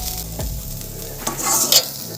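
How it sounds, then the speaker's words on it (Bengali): Onions frying in a pan, a loud close sizzle broken by scraping stirring strokes and a few sharper clatters toward the end. "পেঁয়াজটা ভালো করে ভাজা হয়ে গেছে।"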